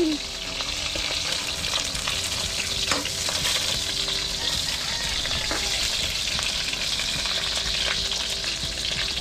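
Sinangag, garlic fried rice, frying in a pan, a loud, steady sizzle with occasional scraping stirs, close and continuous for the whole stretch.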